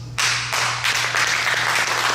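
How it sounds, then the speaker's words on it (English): Audience applause at an entrepreneurship talk, breaking out suddenly into a full, dense clatter of many hands that holds steady and close, with a low hum underneath. "round of applause for that"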